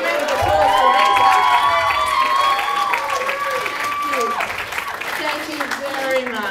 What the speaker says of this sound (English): Big, big round of applause for Anita.